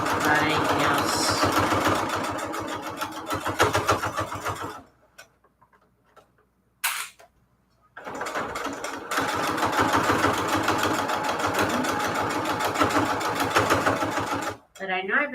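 A six-year-old home sewing machine runs in a steady, rapid mechanical chatter, stops for a few seconds with only faint sounds in the gap, then starts again and stitches on before a brief pause near the end.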